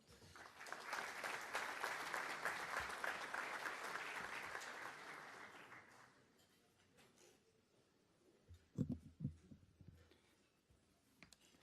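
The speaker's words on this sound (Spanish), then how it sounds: "Bienvenido, un aplauso para él." Conference audience applauding a speaker being welcomed, a strong burst of many hands clapping that fades out after about six seconds, followed by quiet room noise and a few bumps.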